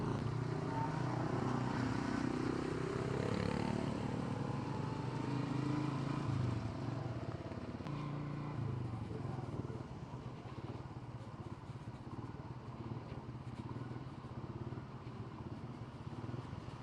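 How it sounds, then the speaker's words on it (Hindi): Motorcycles of fellow touring bikers pass by on a mountain road toward Babusar Top, their engines droning steadily and fairly loud throughout, with a slight change in tone midway as the riders go past. "ये अपने बाइकर भाई भी जा रहे हैं"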